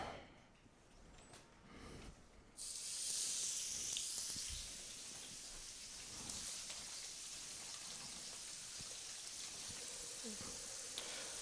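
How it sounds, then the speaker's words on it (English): Shrimp dropped into hot oil in a pan for pad thai, a sudden loud hissing sizzle that bursts in and then settles into a steady, softer frying crackle. "that sizzle I heard when I dropped them in the pan"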